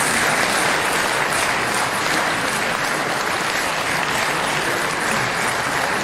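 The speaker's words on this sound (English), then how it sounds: "Can you give a round of applause?" A crowd applauds continuously and loudly at the Kerala Police COCON 2019 event during a festival release, a dense, even wash of clapping without voices.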